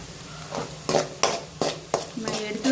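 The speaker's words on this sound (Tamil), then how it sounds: "இதில் கொஞ்சம் கருவேப்பிலை போட்டுக்கலாம்." Curry leaves sizzle with softened onions in a hot pan as a spatula scrapes through in quick, regular strokes, about six sharp scrapes over a steady frying hiss.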